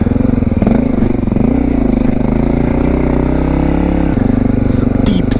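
A Honda XR650L motorcycle engine runs steadily while being ridden in snow, its loud, close thumping drone holding and shifting in pitch, with a brief drop partway through.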